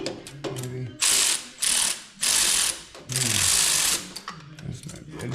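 Ratchet wrench clicking while tightening parts during a turbo install on a 2024 Polaris Pro R: several loud, close bursts of rapid ratcheting separated by brief pauses and softer handling noises.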